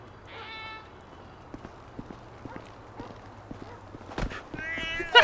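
An Angora cat in GTA V meows twice, once near the start and again at the end, over quiet game ambience and scattered light tapping footsteps.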